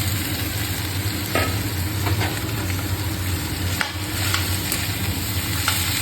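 Eggplant and onions frying with panch phoron spices in hot oil, giving a steady, close, continuous sizzle with occasional sharper crackles throughout.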